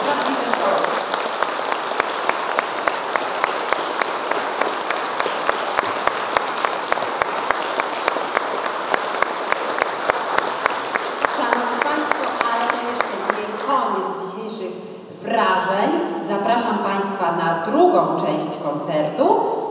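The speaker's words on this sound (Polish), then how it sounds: "Jeszcze raz ogromne brawa" A concert audience at a village show applauds for young performers in a long, loud, sustained wave of rhythmic clapping that fades after about thirteen seconds into music and voices.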